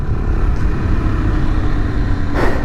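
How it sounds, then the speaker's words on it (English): Suzuki DRZ400SM motorcycle with an airbox mod, riding at steady speed: a continuous loud engine drone with wind roar, rising slightly near the end, no talk. "there's my test ride of the DRZ4SM with the Airbox mod. It definitely gives you way more sound"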